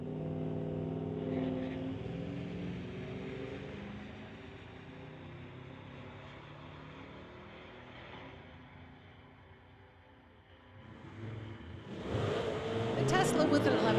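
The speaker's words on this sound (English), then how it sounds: "We got truck versus Tesla." At a street-legal drag racing event, a truck and a Tesla race down the strip, first heard as a rising engine roar and then fading, with a loud pass near the end and an announcer talking throughout.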